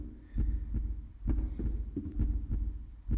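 Low, thudding heartbeat from the horror game Maere When Lights Die, beating in regular double pulses across the stretch, close and prominent, alone without speech.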